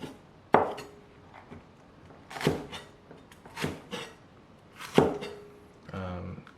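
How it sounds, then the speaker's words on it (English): Knife chopping long green chillies on a cutting board in a home kitchen, Northeastern Chinese cooking: four separate sharp chops spaced about two seconds apart, close and clear, with a faint clatter at the end. "You don't have to be very perfect, just cut them into pieces, it's fine."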